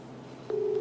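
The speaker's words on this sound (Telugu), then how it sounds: "ఈ బైకానికి ఫోన్ చేద్దాం." A telephone tone sounds as a call is placed: after a half second of quiet hiss, a single steady pitched tone starts abruptly and holds, clear and close.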